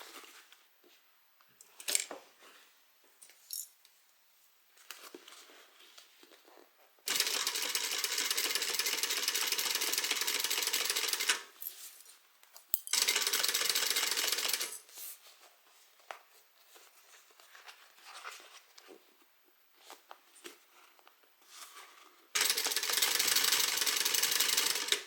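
A sewing machine basting the flap of an evening bag in three bursts of steady, dense stitching, each several seconds long, with quiet handling and fabric rustle in between.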